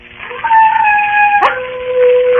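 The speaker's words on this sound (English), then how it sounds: "There are wild dogs on the moor. Sometimes they bay and howl." Wild dogs on the moor howl in long, loud sustained tones, one voice sliding and breaking midway before the howl carries on, close and clear with no speech.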